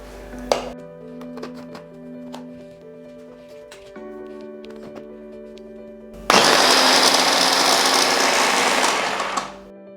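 Brief motor whirs and clicks, then a loud, steady grinding roar as a food processor chops cake into fine crumbs for cake pops, close and alone without talk.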